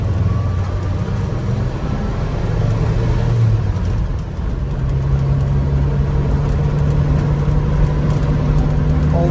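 Original 1957 Chevrolet 3100 pickup engine running steadily, a continuous low mid-range rumble that holds even and close with a slight change in tone partway through.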